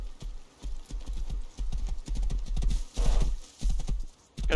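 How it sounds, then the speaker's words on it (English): Horse hooves clop in quick, uneven bursts in the Rust video game, fairly close and loud with short gaps between runs of steps and no talking. "there's a horse."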